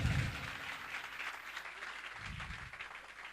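Applause from an audience at a business seminar stage event, a moderate wash of clapping that stays fairly faint and distant, with a low thump at the start.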